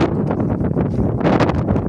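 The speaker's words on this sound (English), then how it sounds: "It's expected windy." Strong wind in the Valley of Desolation near Graaff-Reinet buffets the microphone with loud, steady roaring gusts that swell toward the end.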